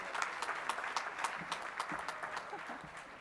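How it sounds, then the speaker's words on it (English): Round of applause from the audience at a regional Emmy awards show, a fairly soft, even patter of many hands clapping across a few seconds. "Let's give them a round of applause."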